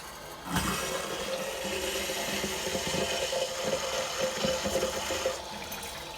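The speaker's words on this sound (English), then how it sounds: "Go ahead and turn the hot water on." Hot water rushes steadily from a tap after a whole-house water filter install, a continuous gushing flow with faint clunks underneath and no talking.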